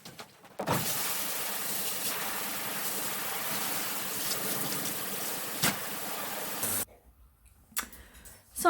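Water sprays steadily from a shower head rinsing a freshly dyed second-hand garment, a loud even hiss for about six seconds that cuts off abruptly, followed by a few quiet handling clicks.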